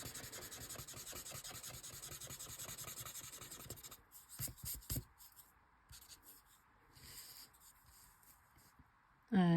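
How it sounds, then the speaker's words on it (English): A paper blending stump rubs pastel pencil into textured paper in soft, rapid scratchy strokes, dense for the first few seconds, then sparse intermittent swipes, ending in a louder brief handling noise; close and quiet. "Just using the blending stump to smooth the pastel pencil into the texture of the paper."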